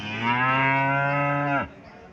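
A single long, loud moo from a Haryana-breed dairy cow, held steady for over a second and then cut off sharply, with quiet surroundings afterward.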